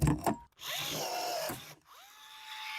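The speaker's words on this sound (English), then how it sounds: "I can go ahead and install my first rivet" A rivet gun sets a rivet while building a DIY UV and red night fishing light, giving a loud power-tool burst in two strong pulls with a brief pause between, then a quieter mechanical tail.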